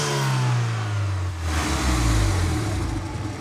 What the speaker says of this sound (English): Rapidly open and close the throttle, ensuring full throttle.